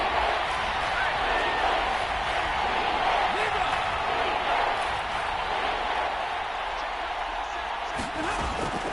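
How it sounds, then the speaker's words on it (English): Football stadium crowd roaring steadily ahead of a big third down, a dense continuous wash of cheering voices with a few louder swells near the end. "the crowd getting into it as we come up on a big 3rd down"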